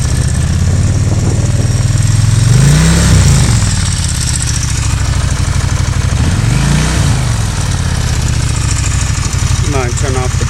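Kawasaki VN1500 motorcycle engine from 2008, damaged at the rear, idling steadily at close range with a loud, continuous low rumble, while someone talks over it throughout.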